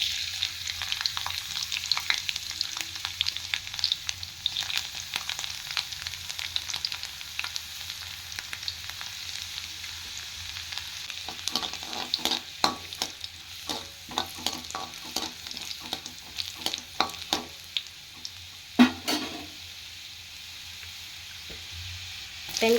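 Garlic frying in hot oil in a kadai for cauliflower manchurian, a steady close hiss and sizzle, with a burst of stirring clicks and scrapes in the latter half.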